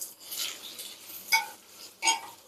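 Onions stirred and scraped in a pan with whole spices during sautéing for a Chettinad chicken curry, soft rasping stirs punctuated by two sharper clanks of the spatula against the pan, no talking.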